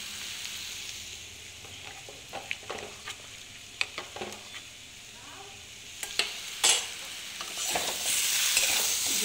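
Pieces of taro and fish fry in a pan with a steady, close sizzle, broken by scraping stirs and a few sharper clinks as the spatula moves the food.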